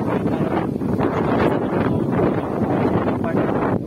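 Steady, loud wind at a waterfall buffets the microphone with a continuous rushing roar, gusting slightly throughout.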